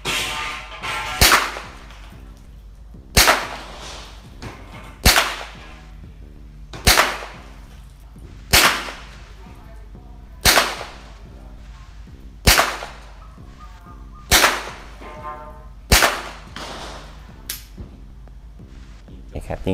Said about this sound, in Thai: ยิงจบทีนี้จะลองในท่านั่งยิงนะครับยิงไปที่ไกลๆนะครับสุดสนามไปที่เนินดินนะครับ